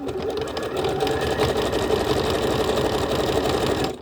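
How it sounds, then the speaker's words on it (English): A sewing machine zigzag-stitches fabric onto a dress waistband, a loud, close, rapid mechanical whirring with a steady rhythmic clatter that runs for about four seconds and then stops, no voices. "now we're going to zigzag stitch this onto the waistband"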